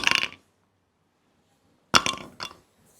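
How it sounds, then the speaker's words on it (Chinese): Batteries are dropped into a container of salt solution, giving two short clattering splashes and clinks about two seconds apart, close and fairly quiet, with silence between. "那接下来我们就把电池直接扔到里边"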